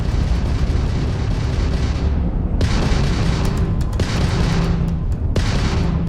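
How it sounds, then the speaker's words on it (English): Starfield spaceship combat: a Crimson Fleet ship and the player's craft trade laser-based weapons fire in space, with loud booming blasts and sharp bursts over a dense continuous rumble, several shots landing in quick succession. "that's a Crimson Fleet ship bringing its weapons to bear"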